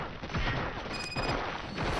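Dense, rapid gunfire from a shootout in the video game RoboCop: Rogue City, a continuous crackling barrage of close shots with clanking mechanical hits layered over a noisy firefight.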